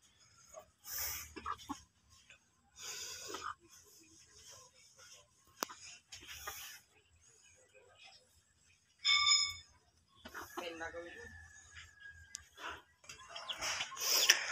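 Chickens and a rooster cluck intermittently in short, scattered bursts around a backyard coop, mostly faint to moderate with quiet gaps, plus a brief sharper call near the end.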